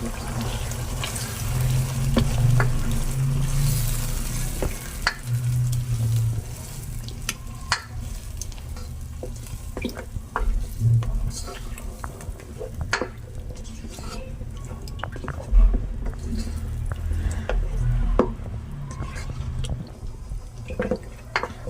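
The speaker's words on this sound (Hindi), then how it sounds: "पालक की हम तब तक बुनाई करेंगे जब तक ये ऑयल जो है ये अलहदा नहीं हो जाता।" A large batch of spinach, two kilos, cooking with chicken in a pot: continuous low sizzling and bubbling with repeated stirring scrapes and occasional knocks of the spoon, fairly loud and close.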